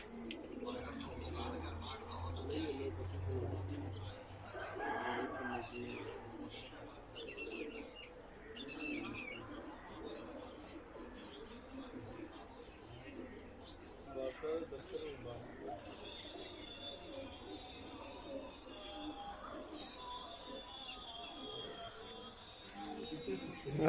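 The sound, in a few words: pigeons cooing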